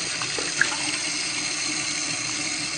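Tap water runs steadily into a colander, rinsing kefir grains at a sink, a constant close splashing stream with a brief clink near the start and no voices.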